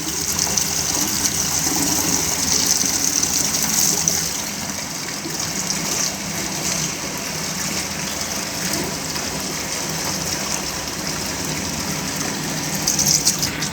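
Water rushes steadily through the pipework of a venturi and orifice meter test rig once its valve is opened fully, a loud continuous gushing flow that holds without a break and has no talk over it.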